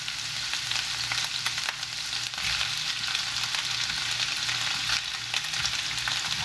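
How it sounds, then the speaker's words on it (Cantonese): Scallops stir-fry in a hot wok with a constant close sizzle and intermittent spatula scrapes against the metal, steady throughout with no talking. "我哋就可以落埋啲帶子落去啦"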